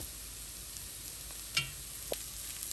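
Clams frying with curry leaves and spices in a pan, a quiet steady sizzle with a couple of faint stirring clinks and taps, no talking.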